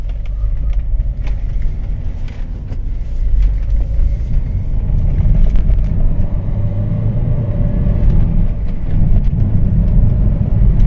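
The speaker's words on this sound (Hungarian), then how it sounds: "Persze meg lehet húzatni néha, hogy az ember élvezze itt ezeket a lóerőket." Nissan Qashqai 2.0 dCi 150 hp diesel on a road drive, a loud, steady cabin rumble of engine and road noise that swells slightly as it pulls, with no talking.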